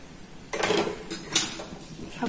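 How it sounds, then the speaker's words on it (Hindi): A frying pan is set down on a gas stove with a few light metallic clanks and clinks, close and fairly quiet, in a home kitchen. "देखिए मैंने गैस ऑन कर दिया, पैन रख दिया उस पे।"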